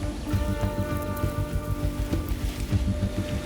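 Steady rain pours down on a tropical rainforest in the rainy season, a dense, continuous hiss of drops pattering on leaves and surfaces with no voices.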